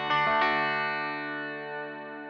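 An electric guitar played through a Boss ME-90 rings out a few picked notes, then sustains as a chorus effect swells in on the decaying tail, giving a shimmering, slightly distorted wash that fades slowly.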